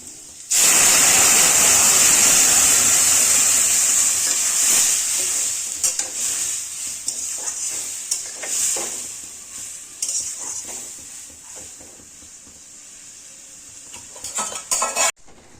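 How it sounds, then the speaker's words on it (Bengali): Lentils for masoor dal with taro stolons poured into hot tempering, a loud burst of hissing sizzle that gradually settles while a spoon stirs and scrapes the pot in uneven strokes, close and free of speech. "এখন আমি এই যে ডালটা এটা ঢেলে দিচ্ছি"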